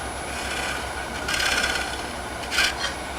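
Wood lathe gouge cuts across the bottom of a square hollow form, giving a steady scraping hiss with two brief, brighter bursts of cutting noise.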